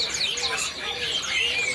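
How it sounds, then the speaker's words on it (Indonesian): Oriental magpie-robins (kacer) kept at a bird shop chirp and whistle in dense, overlapping high calls, loud and close, with other caged birds mixed in. "untuk stok burung kacer nih yang pasangan Mas ya"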